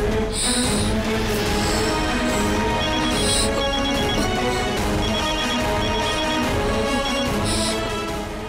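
A melodic phone ringtone plays continuously, with bright chiming accents recurring every few seconds over a steady musical tune.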